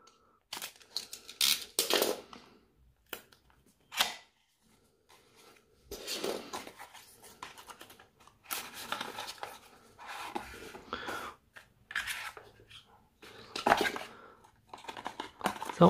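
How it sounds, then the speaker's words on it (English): A small cutter slices open a cardboard box holding a Samsung EP-DG930 cable, with scattered scraping, crinkling and tearing bursts at a soft, close level and no talking. "I have a small cutter."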